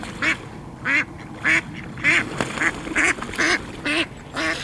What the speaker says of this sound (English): These ducks are going mad, they're scrapping like hell.